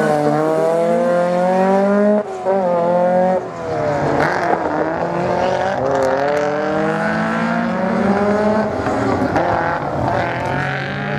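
A rally slalom race car at an event in Lessay roars close past spectators, engine rising and falling through repeated gear changes and revs, loud and sustained throughout.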